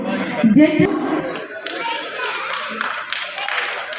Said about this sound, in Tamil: நல்லாவே கைத்தட்டலாம்.